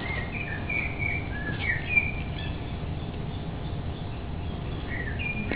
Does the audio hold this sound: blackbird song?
yes